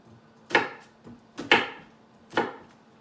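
A knife chops an onion on a wooden board, giving three crisp, sharp cuts about a second apart, each with a softer tap before it, close and clear with nothing else heard.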